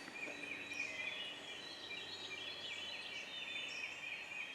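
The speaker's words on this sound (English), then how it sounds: "This one's not gobbling a lot, but he's close." Wild turkey gobbler in a wooded creek bottom, heard as faint distant calls carried over a steady wash of insect and songbird chatter, with no talking.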